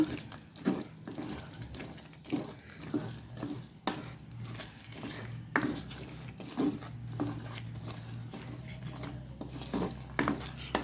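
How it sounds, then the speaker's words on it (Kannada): Ground masala paste stirred in a pan for a chicken and peas gravy: repeated wet, squelching scrapes and soft knocks come in an uneven rhythm over a low background hum. "ರುಬ್ಬಿಟ್ಟಿರೋಂಥ ಮಸಾಲ ಚೆನ್ನಾಗಿ ಮಿಕ್ಸ್ ಮಾಡ್ಕೋಬೇಕು"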